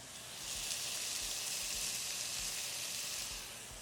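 Salmon sears skin side down in a hot pan with garlic, giving a steady, loud broadband sizzle that holds evenly throughout with no talking.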